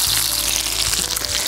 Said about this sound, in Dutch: Dus eventjes kort nog even bakken en dan meteen het vuur uitzetten.